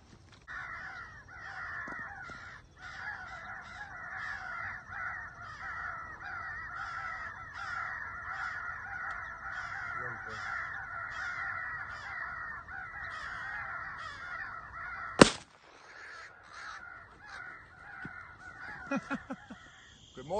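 Crows caw repeatedly at a crow hunt, a steady chorus of harsh calls at moderate distance for most of the stretch, broken by one sharp loud report before the cawing resumes more sparsely.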